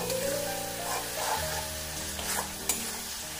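Grated tomato, garlic and ginger paste frying in a pan for a jackfruit curry, a close steady sizzle with occasional stirring clicks and scrapes, no speech.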